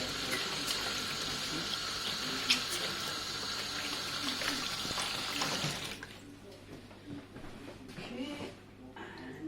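A kitchen tap runs steadily while hands are washed during scone baking, a continuous hiss of water close by that cuts off after about six seconds, leaving quieter clatter behind.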